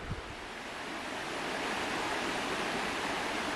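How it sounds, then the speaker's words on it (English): A river runs beside a campsite in Pisgah National Forest, giving a steady, full rush of water that swells after a soft start and carries on unbroken, close to the listener. "we'll be sleeping to the sound of the river"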